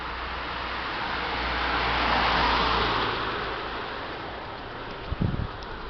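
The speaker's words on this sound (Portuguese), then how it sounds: "Vou esperar o carro passar." A car passes by on a street outside, its roar rising to a broad peak and then fading away, with wind noise and a few low knocks near the end.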